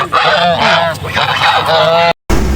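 Domestic geese at Salonga market in Bangladesh, being bought for a picnic, give loud, close honking calls in a rapid run for about two seconds, then a brief silence before a quieter, noisy tail.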